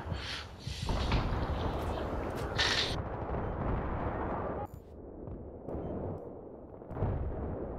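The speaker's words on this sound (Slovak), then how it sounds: "Zase mortár, to nie je možné." Mortar explosions in a Battlefield video game match on the Seine Crossing map come as heavy booming blasts and crackling bursts, loud and close, layered over a constant roar of combat noise that rises and falls.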